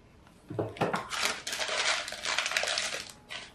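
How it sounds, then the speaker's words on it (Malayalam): Brittle vermicelli snapping and dropping into a pot for semiya payasam in several quick bursts, crisp rattling pieces landing close up, followed by a brief pause and a final clatter. "ഈ സേമിയ പൊട്ടിച്ചിടാം."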